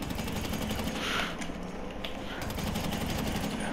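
Rapid bursts of gunfire from the video game GTA 5 run continuously and loudly through the whole short stretch, dense and unbroken, with no speech over it.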